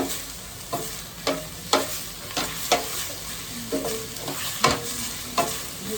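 Escovitch fish frying on a cooker gives a continuous close sizzle, punctuated by around nine regular scraping strokes as it is moved about the pan, with no talking.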